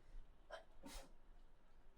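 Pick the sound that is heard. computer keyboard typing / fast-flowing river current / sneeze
sneeze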